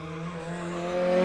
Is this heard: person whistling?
no